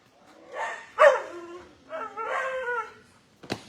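A female dog in a shelter kennel barks and howls in a few loud, drawn-out vocal bursts, with whining tones and a sharp yip near the end, close to the listener.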